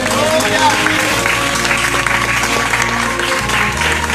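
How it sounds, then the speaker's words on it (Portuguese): A church congregation at an evening revival service applauds loudly and steadily, the clapping blending with crowd noise, a voice and a sustained musical backing throughout. "Quem pode aplaudir o Senhor por isso?"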